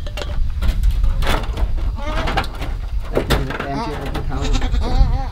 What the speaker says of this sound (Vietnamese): cái con dê này ấy